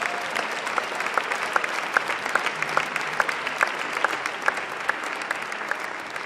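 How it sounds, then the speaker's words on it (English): Audience applause from a large standing crowd at a company event, with continuous clapping and a rhythmic, regularly repeating accent, as if some people clap in time, sustained for about six seconds. "give yourselves a round of applause"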